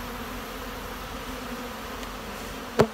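Honey bees heavily robbing around a beekeeper's truck during a honey harvest, a steady faint insect hum with one brief louder buzz as a bee passes close near the end.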